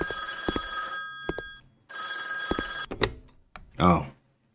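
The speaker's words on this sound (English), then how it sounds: "The phone's ringing." A telephone rings in the horror video game M. Stain with a bright, trilling bell in two long bursts separated by a pause, followed by a couple of thuds and a short clatter.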